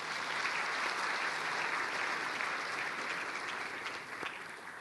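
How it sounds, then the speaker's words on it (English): A large audience at a science awards ceremony applauding the award finalists, a dense, continuous wash of clapping heard from a distance, steady throughout and easing slightly at the end. "Shall we give them a round of applause?"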